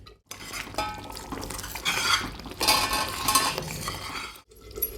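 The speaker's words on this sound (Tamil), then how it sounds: "நான் இடையில இடையில திறந்து கலக்கி விட்டுட்ருக்கேன்" Utensil scraping and clinking against a pot as thick ginger chutney is stirred over a low flame, steady and close, with a brief pause midway and no talking.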